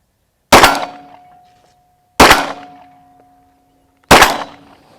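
A Glock 19 pistol fires three loud, sharp shots at roughly two-second intervals, each with a short ringing tail, and nothing else in between.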